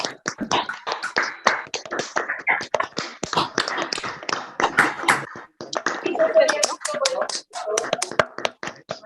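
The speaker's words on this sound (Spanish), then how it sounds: "que abran su micrófono en este momento para no darnos aplausos virtuales, sino aplausos reales" Applause over open microphones in a video call, with scattered, uneven clapping from several participants, punctuated by taps and overlapping voices talking throughout.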